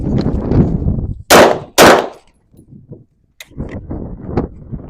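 Two loud, sharp gunshots fired close together at an outdoor shooting range, each a sudden broadband crack with a short decay, between stretches of someone talking nearby.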